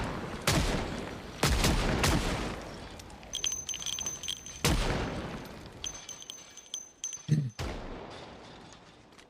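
Gunshots from the survival video game Project Zomboid ring out in several loud, sharp bursts, each with a short decaying tail, separated by quieter gaps holding faint game ambience.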